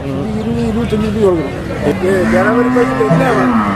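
Buffaloes low and moo in long drawn calls amid the busy murmur of a crowd at a cattle market in Pollachi, with people talking nearby.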